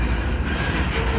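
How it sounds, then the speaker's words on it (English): A CSX freight train hauled by a single engine rolls past close by, a loud, steady rumble of wheels and cars filling the whole stretch without pause. "Hey, there's only one engine."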